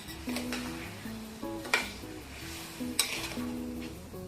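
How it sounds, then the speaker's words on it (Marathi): A spoon scrapes and stirs sweet Alphonso mango pickle (murabba) with lemon juice and saffron in a pan over high heat. Three sharper scrapes stand out against a soft background, with faint steady tones running underneath. "हे ढवळत राहायचं नाहीतर मग काय होते बुडाला करते"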